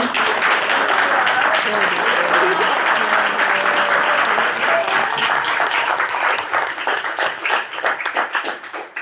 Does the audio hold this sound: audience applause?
yes